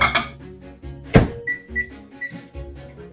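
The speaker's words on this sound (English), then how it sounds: "let's go ahead and get this in the microwave again" A microwave oven being started again while making cupcakes, with a loud thunk as the door shuts, then button beeps and the low hum of the oven starting up.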